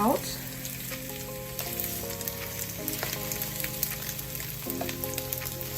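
Eggs fry in a hot pan for fried rice, with a steady, close crackling sizzle and light scraping as the whites are nudged around.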